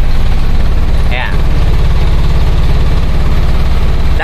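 Manual-transmission car with a slipping clutch, engine running loud and close with a steady low rumbling drone that holds even throughout, with no rise in revs.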